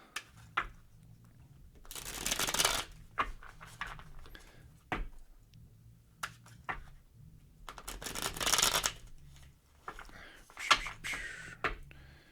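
Tarot cards are shuffled close by in repeated bursts of riffling and flicking, with soft taps and handling noises between the louder shuffles.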